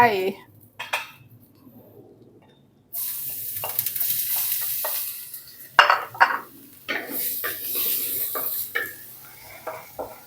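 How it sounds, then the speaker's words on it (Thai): Loud sizzling of garlic in a hot wok with repeated scraping and clanking of a spatula as it is stirred briskly. "ผัดกระเทียมให้เหลืองหอมเลยค่ะ"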